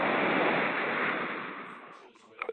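A person vocally imitates a power toilet flush, making a loud sustained rushing whoosh with the mouth that gradually fades out over about two seconds and ends in a few short breathy sputters.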